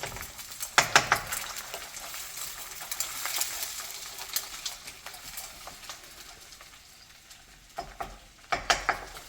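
Egg hakka noodles with garlic being stirred in a hot oiled pan, a steady background sizzle broken by sharp clattering scrapes of the utensil near the start and again near the end.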